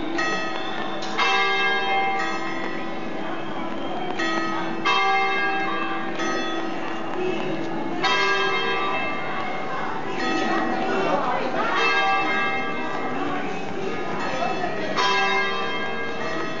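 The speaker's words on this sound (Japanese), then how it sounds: "お昼の鐘です。" Noon church bells in Bergamo, Italy, ring out in repeated overlapping strikes with long shimmering decay, loud and continuous, with faint chatter of people around.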